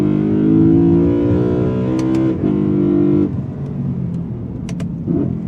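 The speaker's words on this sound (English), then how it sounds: "this engine sounds a lot like a new LC500, also a naturally aspirated V8, but a 5-liter" A naturally aspirated V8 engine in a BMW E92 M3 rumbles steadily with a deep, smooth harmonic tone that dips and resumes, sounding near and loud throughout.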